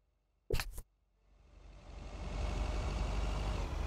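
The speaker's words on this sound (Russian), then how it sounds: "Мне очень не нравится, что очень тихий звук э," Two sharp clicks, then a video game vehicle engine in Lake rumbles up from quiet and keeps running with a low, steady growl that grows louder.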